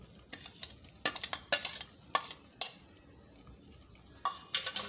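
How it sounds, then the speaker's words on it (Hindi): Onion and ginger paste are stirred in a pan over a wood fire. Bursts of scraping and clatter come in uneven clusters over a faint sizzle. "इनमें प्याज डाल देंगे, उसको भूनेंगे"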